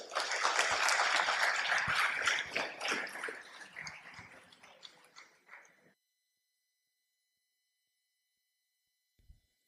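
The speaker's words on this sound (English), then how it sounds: "So please join me in a big applause for Sara." Audience applause at a talk on open knowledge, loud and dense at first, then thinning and fading out over about six seconds, followed by near silence with a faint thump at the end.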